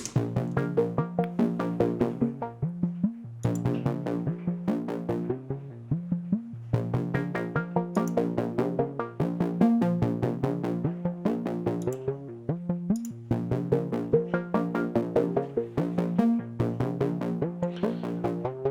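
Three layered modular synth sequences play together, a steady pulsing arpeggio pattern with repeating bass notes and bright plucked tones, continuous and loud with rhythmic phrases cycling every few seconds.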